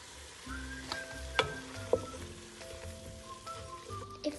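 Spicy chipotle pasta with a splash of soy sauce being tossed in a hot pan, a soft steady sizzle with scraping stirs and a couple of sharp clanks against the pan.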